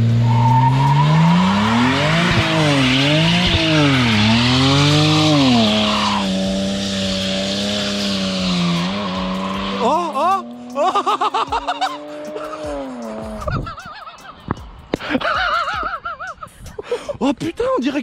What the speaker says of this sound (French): Faut entendre un peu le moteur.